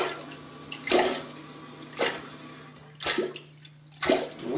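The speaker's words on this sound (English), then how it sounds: "we're going to take it and we're going to flush it" A household toilet is flushed and its bowl refills with water during cleaning, giving repeated close surges of rushing water about once a second over a steady low hum, with no talking.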